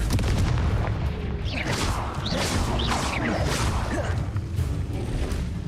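Confringo blasting spells explode in Hogwarts Legacy, giving a dense, loud run of booming blasts, whooshes and crashing impacts that overlap continuously for several seconds.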